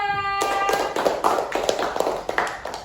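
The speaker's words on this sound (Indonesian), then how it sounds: "Tepuk tangan dulu untuk kelompok 2." A classroom of students claps for group 2 after their calligraphy work is shown, a burst of scattered, uneven handclaps starting abruptly and continuing close by, with a tonal hum fading out just before it begins.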